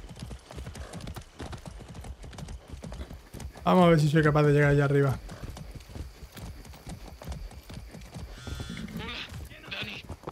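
Horse hooves clip-clop at a steady trot in Far Cry 6, rhythmic and close throughout, with a loud neigh from the horse midway and someone talking over the ride.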